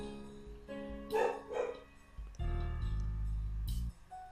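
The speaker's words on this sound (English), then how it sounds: "I'm gonna wait until they stop barking." Several dogs bark in short irregular bursts, fairly close, followed by a loud low rumble and a brief high whine.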